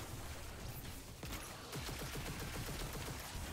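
Rapid gunfire bursts from the Destiny 2 video game, a fusillade of overlapping shots rattling densely through the latter half, with a noisy in-game soundscape throughout.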